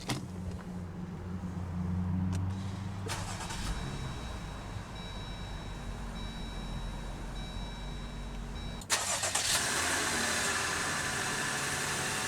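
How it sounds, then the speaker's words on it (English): A 2019 Jeep Wrangler Sport S with push-button ignition sits idling with a low steady hum and a few faint chime tones, then the engine fires up abruptly near the end into a louder, rougher running roar. "let's go ahead and start the engine"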